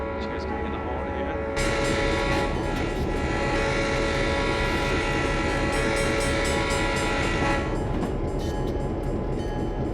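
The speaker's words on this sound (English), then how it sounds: "You guys can hear the horn here." A retro Amtrak E8 diesel locomotive in Train Simulator sounds its horn, a loud sustained multi-tone blast over the rumbling engine that keeps blaring for several seconds.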